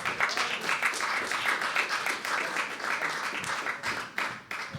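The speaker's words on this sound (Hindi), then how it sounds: "एक बार और जोरदार तालियां नवीन के लिए दोस्तों" A live poetry open mic crowd applauds a poet: dense, lively clapping from a room of listeners, fairly close and loud, with the rhythm wavering and thinning briefly near the end.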